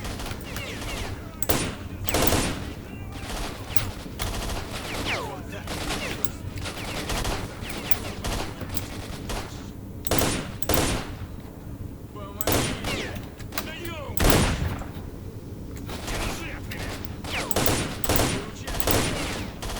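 Gunfire from the video game Stalker: Shadow of Chernobyl, with repeated sharp shots and short bursts scattered irregularly across a steady background of game ambience, fairly loud and close.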